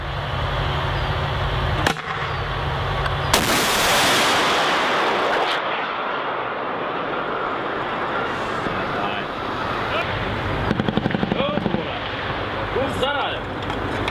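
An M3 anti-tank gun fires on a BTR target at 1,200 meters: a sharp loud blast near two seconds, then a second heavy report with a long rolling rumble, followed by a continuous broadband roar and a few faint later cracks.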